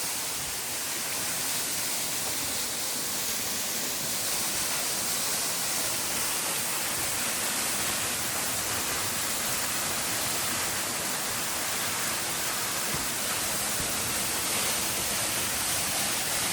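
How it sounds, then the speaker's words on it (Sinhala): Kotaganga waterfall in the Knuckles range of Sri Lanka, at the uppermost fall, gives a steady, dense roar of rushing water with no pause, heard close and alone. "මං හිතන්නේ අපි උඩම ඇල්ල ගාවට ආවා දැන්."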